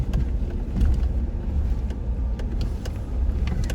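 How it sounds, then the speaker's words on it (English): Cars drive along a mountain road near Breckenridge, a close, continuous low rumble of engine and tyre noise that swells and eases, with faint ticking sounds over the top. "there's cars coming, baby."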